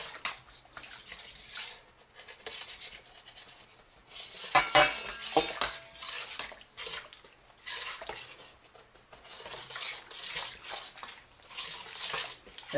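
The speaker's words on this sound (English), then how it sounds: "I will stir it, making sure that the paste is nice and smooth" Flour paste for dinner roll dough being stirred in a bowl, a steady scraping and clinking of spoon against the bowl's sides that swells loudest in the middle of the stretch, with no voices.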